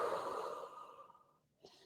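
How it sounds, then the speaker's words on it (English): A long, deep breath blown out slowly during a seated leg stretch in a beginner HIIT workout fades to quiet, then a short sharp inhale follows, close and breathy. "Inhale, exhale."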